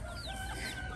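Homestead chickens in a flock cluck softly and continuously over a steady low rumble, with occasional higher calls weaving through for the full second.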